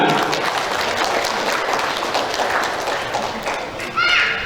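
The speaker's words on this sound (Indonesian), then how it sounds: "Mari kita beri tepuk tangan kepada para khotimin dan khotimat." Applause from an audience at a Quran recital ceremony honouring its graduates, a steady loud wash of clapping through the whole stretch with a voice talking over it.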